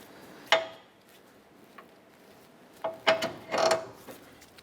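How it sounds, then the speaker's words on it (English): A torque wrench tightens the upper bolt to 36 foot-pounds during a driver-side CV axle replacement on a 2008-2012 Honda Accord, a few sharp metallic clicks and ratcheting bursts, close and isolated against quiet background. "I'm going to torque our upper bolt to 36 foot-pounds."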